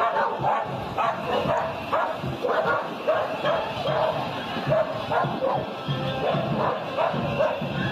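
Dogs bark in a steady run of repeated yapping bursts, several barks a second, loud and fairly near against a busy background.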